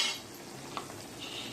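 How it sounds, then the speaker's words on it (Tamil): Soft scraping and light clinks of a spoon stirring aval upma in a pan, with a faint sizzle underneath; quiet and close. "ஒரு கையால் போட்டுட்டு ஒரு கையால் கிளறி கொடுக்கணும்."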